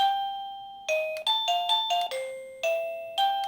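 A wireless doorbell receiver plays its test chime melody, a sequence of clear electronic ding tones stepping between pitches, close and moderately loud, with a short pause before each new note group and no talking.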